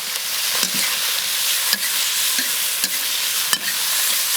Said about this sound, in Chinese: 来 炒一下， 把香味炒出来